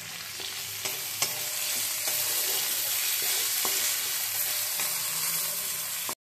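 Capsicum fries in a pan with a steady, close sizzle and occasional stirring scrapes and taps, ending with a sharp knock.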